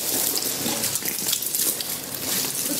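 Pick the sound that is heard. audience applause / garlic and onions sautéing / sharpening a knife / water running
water running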